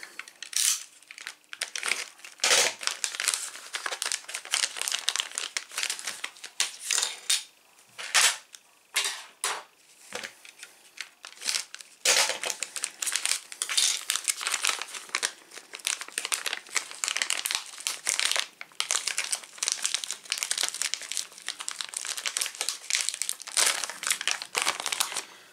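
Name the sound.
unwrapping packaging of DeLorean model kit parts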